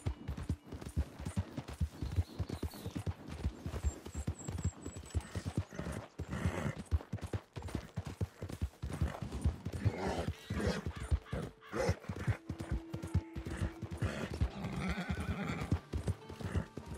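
Steady clip-clop of horse hooves while riding through Red Dead Redemption 2 Online, rhythmic and close, with a horse whinnying and crows cawing in the background.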